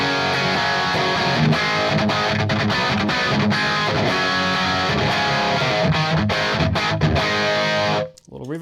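An electric guitar runs through a Lion distortion pedal set near the top of its aggression range, giving a thick, saturated, sustained wall of chords that stops abruptly near the end.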